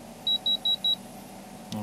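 An Innova automotive code reader gives four short, evenly spaced high beeps in a quiet room, followed by a faint handling noise.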